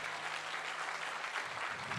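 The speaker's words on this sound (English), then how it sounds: "let's give a big round of applause for Professor PPC for hosting us" Faint applause from an audience at a university event, steady distant clapping filling the short stretch with no break.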